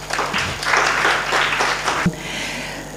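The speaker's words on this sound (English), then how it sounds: "I believe Makueni County deserves a hearty clap." Conference audience clapping in a hall, a moderate burst of applause that swells, then tapers off abruptly with a thump, leaving quiet room tone and a low hum.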